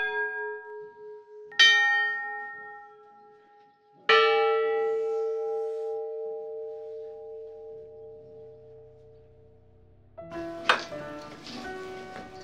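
A large village church bell tolls twice, each strike ringing out and slowly fading, then a brighter cluster of bell strikes clangs near the end.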